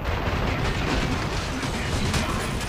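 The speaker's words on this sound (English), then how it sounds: "Time for some M4 shotgun." An M4 shotgun firing in the video game Killing Floor 2, its heavy blasts merging into a loud, continuous roar of gunfire and explosive impacts with no pauses between them.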